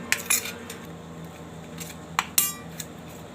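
Metal spoon clinking against a bowl while stirring an eggplant and coriander mixture, a few scattered light scrapes and taps, close and fairly quiet with no talking.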